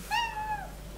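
Several cats meow at feeding time in a home kitchen, one clear, drawn-out mewing cry up close, rising then falling, with no talk over it.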